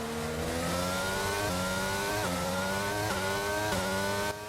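An F1 race car in the F1 22 video game screams down the back straight into a braking zone, its high engine note climbing through repeated upshifts, then dropping sharply as it brakes, loud and continuous.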